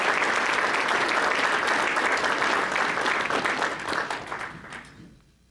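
Applause from a large audience at a sustainable agriculture lecture, steady and full for several seconds before tapering off and fading to quiet at the end.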